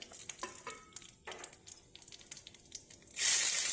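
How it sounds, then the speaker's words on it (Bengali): Light clinks and stirring scrapes, then a sudden loud hiss as bay leaves and nigella seeds hit hot oil and begin frying, the sizzle staying strong to the end. "এখন এটাকে আমি ভাজবো তেলে। তেল গরম হয়ে গেছে, দিয়ে দিলাম তেজপাতা, কালো জিরা,"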